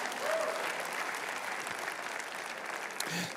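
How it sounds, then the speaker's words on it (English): A church congregation clapping their hands together during a sermon, a steady wash of many hands applauding at once, fairly loud and sustained, with a faint voice briefly audible. "Come on, clap your hands and praise God right now"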